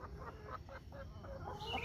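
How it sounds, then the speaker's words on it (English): A backyard flock of hens clucks softly in short repeated calls, close but faint, over a quiet outdoor hush. "Best chickens I ever had"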